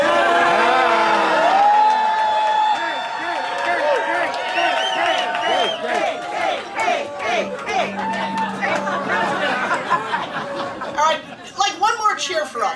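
A party crowd cheers and whoops after a toast to a family at a 40th celebration, with loud mixed voices, chuckles and chatter, scattered claps, and overlapping talk.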